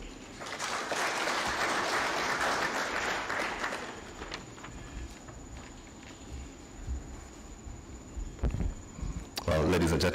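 Audience at an official event in Kenya applauds for the electoral commission CEO, a dense burst of clapping for about four seconds that thins into a quieter room, followed by a few sharp knocks near the end.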